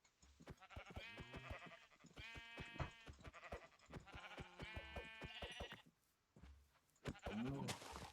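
Many sheep in Minecraft bleat in overlapping, wavering calls, one after another at close range, with brief gaps between the bursts.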